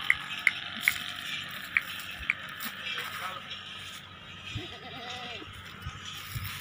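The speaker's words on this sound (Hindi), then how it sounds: "तो जनाब चौथे नंबर पे ये बकरा आ गया जनाब चेक करो" A goat bleats a few times at a livestock sale, the wavering calls rising out of steady crowd murmur while someone talks throughout, with some sharp clicks early on.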